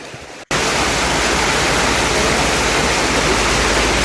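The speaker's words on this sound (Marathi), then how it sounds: "पाऊस कंटिन्यू चालू आहे आणि पावसानं आता बऱ्यापैकी जोर पकडला आहे" Heavy, continuous rain pours down outside a roadside dhaba in Kolhapur, with strong wind driving water through an open door. A dense, steady roar fills the clip from about half a second in, loud and close, with no talking.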